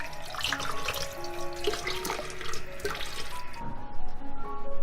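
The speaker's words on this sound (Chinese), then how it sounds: "再来把骨头清洗干净" Pork bones being rinsed clean under a running kitchen tap before blanching for lotus root soup, a steady close stream of splashing, trickling water with occasional clinks throughout, no talking.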